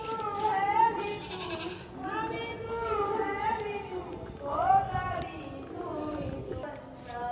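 Goats bleat repeatedly nearby, wavering calls rising and falling in pitch, several in succession, over a faint background of voices.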